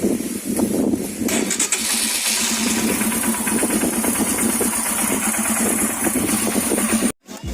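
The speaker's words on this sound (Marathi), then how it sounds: "तर एक स्टार्ट देऊया आणि राईड सुरू करूया" A motorcycle on a breakfast ride to Igatpuri starts with a short crank, then settles into a steady, close, throbbing idle that runs on without break before cutting off abruptly near the end.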